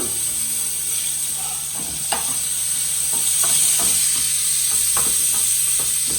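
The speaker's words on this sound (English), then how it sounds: "after we've got them a little bit golden brown, we'll flip them over." Piccata cutlets sizzle steadily in a hot frying pan, a loud continuous hiss broken by several soft scrapes and taps as the pieces are turned over, with no talking.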